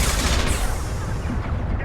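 Sniper rifle gunfire in Mass Effect 2: a loud, booming shot with dense noisy blast and echoing tail, heavy low rumble, fading over about two seconds, no voices.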